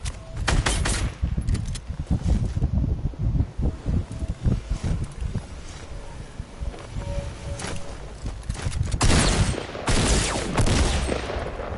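Rapid gunfire in the Fortnite video game, repeated bursts of shots rattling irregularly throughout with some heavier volleys, mixed with rustling game ambience.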